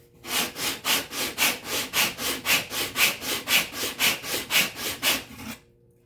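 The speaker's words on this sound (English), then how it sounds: "I have to sand them on the sanding board, and that's just sandpaper glued to a real flat board." Violin linings are rubbed back and forth on sandpaper glued to a flat board, producing about twenty steady, rhythmic rasping strokes, close and alone, that stop abruptly.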